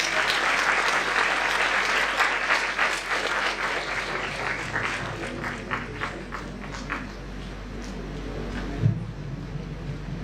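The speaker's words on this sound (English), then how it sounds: "please welcome her with a round of applause." Audience at an exhibition inauguration applauds to welcome a speaker, steady clapping that is fairly loud at first and then thins and fades toward the end, with a low hum underneath.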